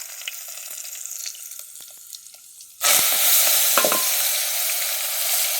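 Spices hit hot oil for a tempering on a country wood-fired stove, a quiet simmering hiss suddenly bursting into a loud, close, sustained sizzle that crackles and pops as it continues.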